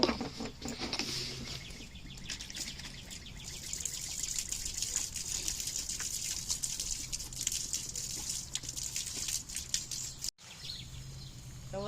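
Fresh water gushes and splashes steadily as it is poured to fill a pet rabbit's water container outdoors near a garden, continuing for most of the stretch with faint bird calls in the background.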